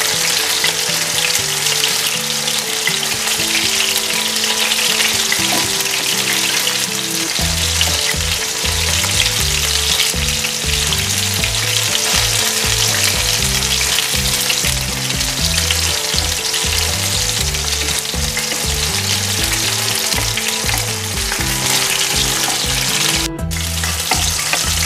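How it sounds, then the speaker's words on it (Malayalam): Pork sticks deep frying in hot oil, a steady loud sizzle and bubbling hiss lasting throughout with no talking, joined by low background music tones. "പുറം കൂടി നന്നായി മൊരിയട്ടെ."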